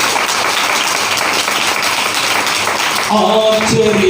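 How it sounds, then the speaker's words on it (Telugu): A church congregation claps loudly and continuously in a dense wash of applause, with a voice entering over it near the end. "మీరు కూడా ఒకసారి చప్పట్లు కొట్టి దేవుని మహిమపరచండి"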